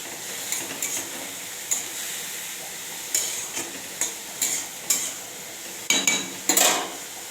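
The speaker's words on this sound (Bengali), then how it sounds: "হালকা পরিমাণে নাড়াচাড়া করে" A utensil stirs food seasoned with salt and turmeric in a pan, sharp metallic scrapes and clinks arriving in irregular bursts over a soft background sizzle, close and fairly loud, with no talking.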